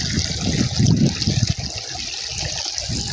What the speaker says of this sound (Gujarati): ઉપલી ઝૂંપડીએ બે મોટરનું પાણી હાલે છે.